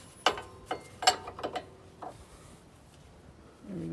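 A wrench working the bolt on a camber arm of a G35 / 350Z, a few quiet metallic clicks and taps in a short irregular cluster, close and faint, with a soft shuffling noise at the end.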